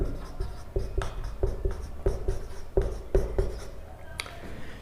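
Marker or chalk strokes on a board during an organic chemistry lecture: a steady series of short, firm taps and scrapes at an even rhythm, fairly close and clear, with no talking over them.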